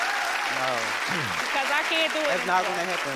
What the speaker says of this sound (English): I don't know why y'all clapping.